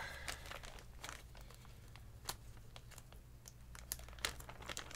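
A KBDFans retro beige PBT dye-sub keycap set is unpacked, with close, quiet plastic crinkling and rustling in irregular bursts and a few sharper crackles, no voices.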